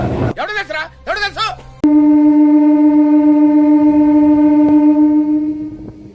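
A MEMU train on the Bhimavaram–Vijayawada line sounds a long, loud, steady horn blast near Gudivada Junction, after a person talks briefly.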